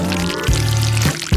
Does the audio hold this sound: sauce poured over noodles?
yes